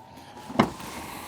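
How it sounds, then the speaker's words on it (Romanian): Microlino microcar door easing shut on its soft-close mechanism: a single short, soft thunk with a brief whirring latch sound, close and fairly quiet, with no one talking. "Și ea se închide singură."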